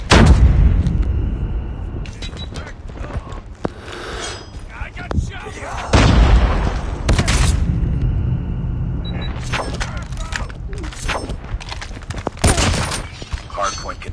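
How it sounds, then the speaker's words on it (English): A napalm strike and explosions boom in Call of Duty Mobile: loud blasts at the start, around six seconds and near twelve seconds, over a rumbling battle din with scattered gunfire and game voice announcements. "Enemy napalm has been deployed."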